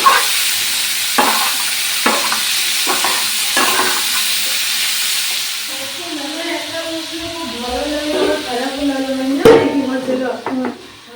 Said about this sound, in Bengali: আমি ভাজা ভাজা করে নিচ্ছি